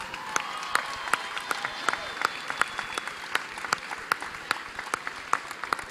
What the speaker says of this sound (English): Let's hear it for your senior basketball players.